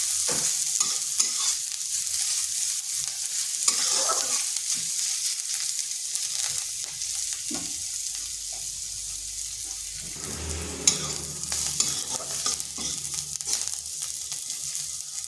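Onion frying lightly in oil with whole cumin, a constant near sizzle broken by repeated spatula stirring and scraping against the pan, louder clatter around the middle.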